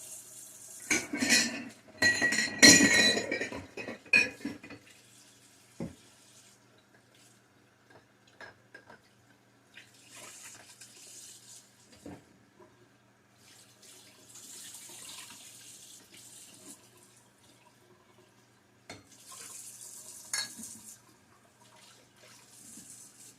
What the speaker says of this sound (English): my sink is full of glassware, so I'm just going to rinse that with hot water